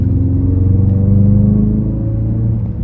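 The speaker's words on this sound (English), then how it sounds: "Definitely some of it is my exhaust, but there's definitely something coming through the speakers" A Ford Focus RS accelerating in third gear at around 3,300 rpm, a loud, deep, steady engine and exhaust drone heard from inside the car, its pitch rising slightly before easing off, with no voices.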